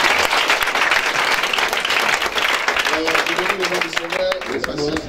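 Church congregation applauding and cheering loudly and steadily through a Sunday service testimony session, with voices and shouts mixed into the dense clapping throughout.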